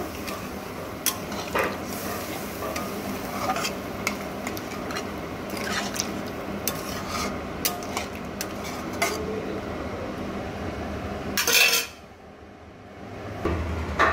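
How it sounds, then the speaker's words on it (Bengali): A Punjabi-style bottle gourd and yogurt curry (lau doi) is stirred in a pot after the gourd's boiling water is added. Soft scraping and clinks of the utensil continue steadily, then a sharp metallic clank is followed by brief quiet. "দিয়ে আবার নাড়াচাড়া করে এর সঙ্গে মিশিয়ে নেব"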